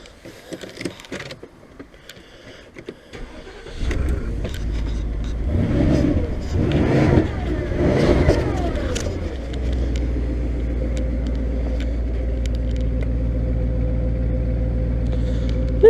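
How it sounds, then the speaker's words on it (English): Porsche Cayenne Turbo with a cheap modified exhaust cold-starts after a few quiet seconds of handling noise, cranking briefly then catching into a loud, rumbling high idle with a couple of revs before settling into a steady burble. "let's just try a quick cold start, eh?"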